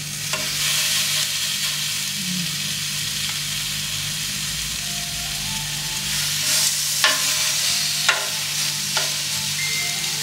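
Fish seasoned with ginger frying with no oil in a Happy Call pan, a steady close sizzle and hiss running throughout with a few brief clinks of utensils.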